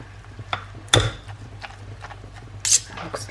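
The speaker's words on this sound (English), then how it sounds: "I'm going to just shred it while it's in the pan" Forks scraping and clinking in a pan while shredding slow-cooked gammon mixed with coleslaw: a few sparse, soft scrapes and taps over a quiet background.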